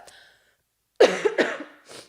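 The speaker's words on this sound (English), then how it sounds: "Don't mind the cough." Two sharp coughs in quick succession, close and loud, followed by a softer breath after a short silence.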